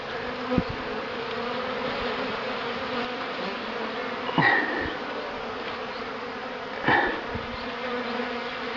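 Honey bees fly around their hive in spring, giving a continuous, dense buzzing hum with a few individual bees passing close by.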